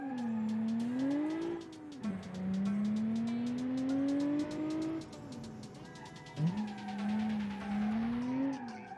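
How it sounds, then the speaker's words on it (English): A rear-wheel-drive V6 car in the Automation game does a burnout, the engine revving steadily under sustained high tire squeal that rises and dips in long sweeps, with no talking. "Yep, it can do a nice burnout."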